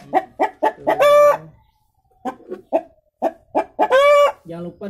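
Bangkok (ayam bangkok, aseel-type) rooster clucking close up, a run of sharp clucks followed by two drawn-out loud crowing calls with short pauses between.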